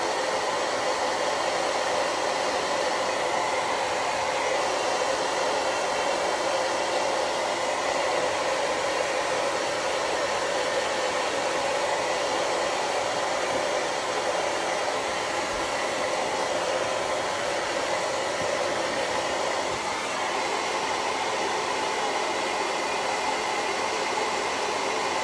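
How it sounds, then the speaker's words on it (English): A hair dryer blows continuously on a freshly painted candlestick and finial, a steady loud whooshing roar with no pauses for about 25 seconds. "I'm going to dry our candlestick and our finial so I can do a second coat"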